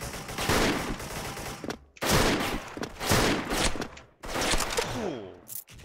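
Rapid gunfire from the online shooter game Special Force, a nine-barrel pistol, in dense sustained bursts across three loud stretches separated by brief pauses, with no talk over it.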